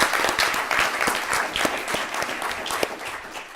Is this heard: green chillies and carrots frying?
no